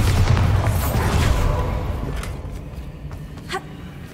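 Bombarda explosion spell in Hogwarts Legacy, a loud booming blast at the start that rumbles and fades away over several seconds, with a small crackle near the end.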